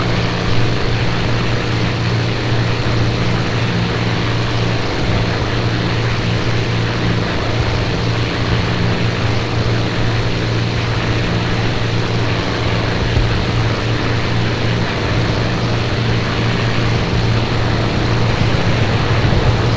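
A World War II bomber in a flight sim flies under German fire, its propeller engines giving off a loud, unbroken drone with a steady low hum and no voices.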